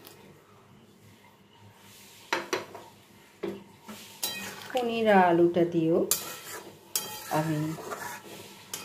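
Fried paneer cubes and potato are stirred into a simmering gravy in a pan, with scattered scrapes and clinks of a spoon against the pan. A voice speaks briefly partway through.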